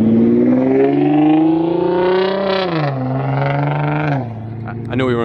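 A 3.8-liter twin-turbo V8 engine revs loudly, pitch climbing steadily and then dropping, rising again near the end, close and dominant throughout.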